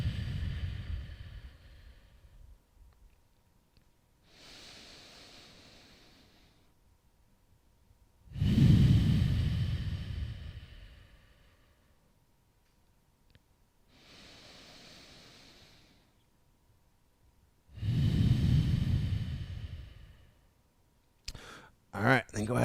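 Slow, deep yoga breaths during a night-time routine, alternating soft inhales and stronger, breathy exhales close to the mic in a steady, unhurried rhythm, with no talking.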